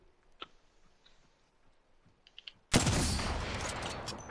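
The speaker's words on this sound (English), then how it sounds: "Ah, that's a good grenade." A video game grenade goes off with a sudden loud blast that cuts through quiet ambience and scattered small clicks, then rolls into a long, dense roar of debris and rumble that stays loud to the end.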